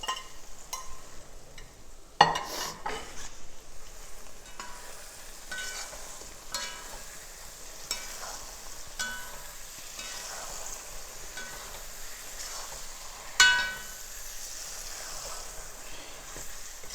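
Fried fish pieces going into a pan of fish pickle masala, giving a soft steady sizzle with scraping and stirring clinks and a couple of sharper knocks, no talk.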